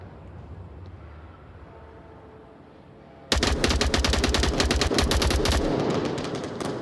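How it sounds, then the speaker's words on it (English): Gunfire in the VR shooter Onward during a competitive tournament match: after a quieter stretch, sudden loud sustained rapid automatic bursts fill the second half, close and dense. "Virus putting shots onto Wookie"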